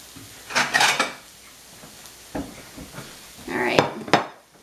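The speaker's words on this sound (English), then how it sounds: "I'm going to plate this real quick so you guys can see what it looks like" Dishes and cutlery clatter while chicken egg foo young is plated: a burst of clinks and scrapes, a quieter stretch with single knocks, then another cluster of sharp ceramic and metal hits near the end.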